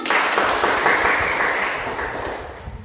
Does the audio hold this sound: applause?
yes